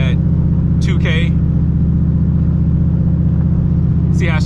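Turbocharged SN95 Ford Mustang garage build idles loud and close with a steady low engine drone, while brief hissy bursts and whooshes rise at the start and end.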